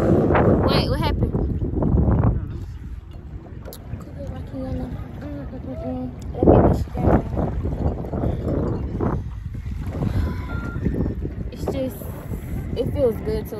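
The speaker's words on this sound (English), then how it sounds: "The wind blowing." Wind buffets the microphone in steady gusts while canoeing on open water, a continuous low rushing under intermittent talk from people in the boat.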